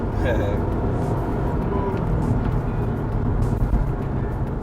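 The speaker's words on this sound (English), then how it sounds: "I'm going to put the car in sport shop and see how it performs" A 2012 Subaru Impreza WRX STi sedan with symmetrical AWD accelerating hard in sport mode, heard from inside as a loud, steady engine and road roar that continues without a break.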